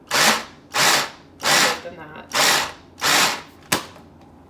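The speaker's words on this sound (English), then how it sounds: "we'll just blend these up." A blender whirs in five short pulsed bursts, each about half a second with brief pauses between, followed by a sharp click; a few words are spoken.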